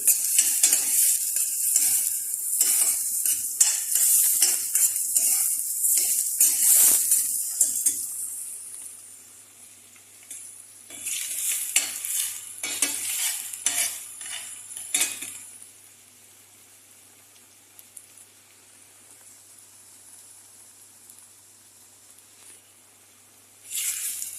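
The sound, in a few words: sautéing shrimp in a pan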